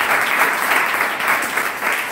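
A congregation at a youth worship meeting claps loudly and continuously, a close, dense, even roar of applause that holds steady from start to finish with no voices rising above it.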